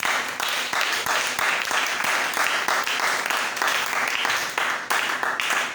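A church congregation at a Bible seminar breaks into applause, dense continuous clapping from many hands that stays loud and steady for several seconds.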